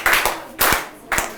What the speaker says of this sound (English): Can you clap this girl